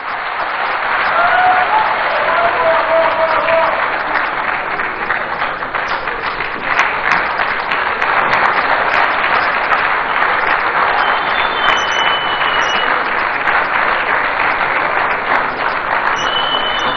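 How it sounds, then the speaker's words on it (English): An audience at a political rally in Accra claps steadily, a dense unbroken wash of applause that holds at an even level for the whole stretch, with faint higher sounds scattered on top. "Round of applause again"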